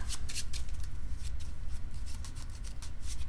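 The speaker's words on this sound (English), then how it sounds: "Shuffle my deck." A deck of KeyForge cards is shuffled by hand at a tabletop tournament match, giving quick, rhythmic riffling bursts that repeat close to the microphone.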